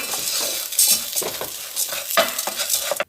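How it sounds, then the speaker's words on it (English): Garlic sautés in a hot pan, a loud close sizzle with brisk scraping stirs of a utensil against the pan, no voices. "Don't let the garlic burn, so it's a quick saute."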